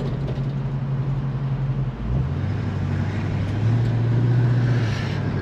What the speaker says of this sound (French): je vais repartir sur la double voie et puis on va accélérer un petit peu encore une fois